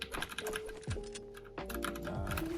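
Keys on a Redragon Draconic K530 mechanical keyboard clatter in quick, uneven bursts of clicks, close and fairly loud, with a held key and release during gameplay.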